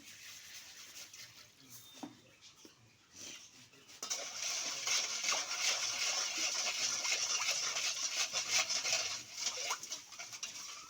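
Sugar and salt being stirred into bael sharbat, a steady soft clinking and swirling of a spoon in liquid, close and continuous, louder in the second half.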